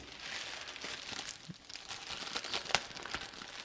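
Plastic packaging is crinkled and torn off reverse osmosis filter cartridges, a close, busy run of rustling and crackling with a few sharper rips, no voices.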